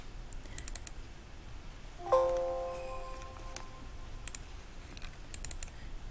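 Computer mouse clicks, a few soft, sharp ticks spread out in a quiet room, with a brief faint tone in the middle.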